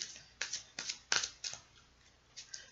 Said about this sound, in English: one more shuffle, and then we're going to cut the deck